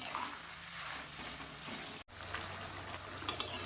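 Sliced onions sizzle and crackle steadily in oil as they fry into beresta for an Old Delhi–style chicken korma, with faint stirring and a brief break partway through.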